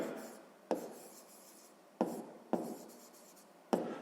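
Pen scratching across paper in steady, rubbing writing strokes, broken by four sharp taps at roughly even intervals, close and fairly quiet with no talking.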